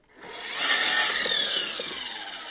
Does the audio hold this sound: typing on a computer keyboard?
no